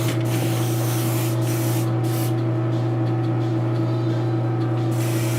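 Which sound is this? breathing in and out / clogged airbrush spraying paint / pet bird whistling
clogged airbrush spraying paint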